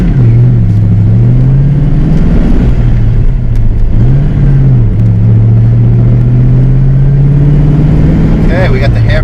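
A Fox Body 5.0 Mustang notchback drives with a lowered stance that causes tire rub at the left front; its engine drones steadily and close, the pitch dipping and swelling as the throttle changes.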